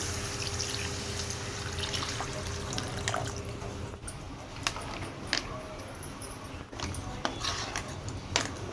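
Water strained from ground crab legs is poured and mixed into a pan of crab curry, a steady trickle and splash that gives way to scattered clinks and stirring.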